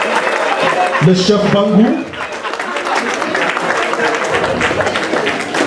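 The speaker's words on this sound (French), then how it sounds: "qu'on applaudisse le chef, je vous en prie" A crowd applauds a chief during a funeral ceremony in Cameroon. The clapping comes as a dense continuous patter under a loud announcer's voice and some murmuring.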